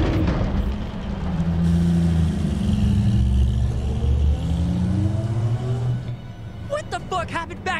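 A car driving in the Dying Light 2 video game, its engine humming and rising in pitch as it accelerates, steady and close, with voices talking over it near the end.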